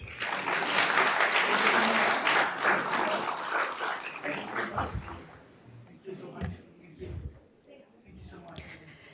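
An audience at a Fort Worth ISD school board meeting applauds in a dense, loud burst that thins out after a few seconds into scattered claps and small sounds.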